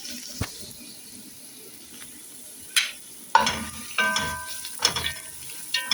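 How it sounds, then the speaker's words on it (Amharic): Finely chopped onion hits a hot pot and sizzles, with intermittent stirring scrapes and clinks of a utensil against the pot, close and fairly quiet, with no one talking. "በደቃቁ የተከተፈ ሽንኩርት ድስቴ ላይ እጨምረዋለሁ።"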